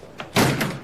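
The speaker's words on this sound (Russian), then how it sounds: "Надо закрыть дверь, мы ведь еще не открылись." A door is shut in a newly set-up club room, giving a single solid thump after a brief light knock, close and moderately loud.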